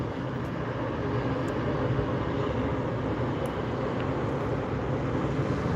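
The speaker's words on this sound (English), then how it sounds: "What an amazing takeoff." Southwest Boeing 737-700 jet airliner taking off at SNA airport, a steady loud broadband engine roar sustained throughout without pause.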